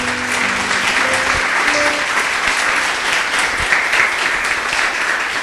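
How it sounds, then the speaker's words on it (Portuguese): Loud, dense clapping from a church congregation fills the space steadily, a continuous wash of many hands with faint music tones underneath. "Louve ao Senhor com suas palmas bem forte."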